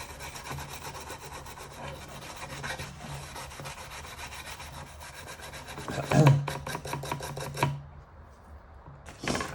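Scraping and rasping as surface rust is cleaned off an Atari Lynx II handheld console, a steady gritty rubbing that swells into louder strokes toward the end.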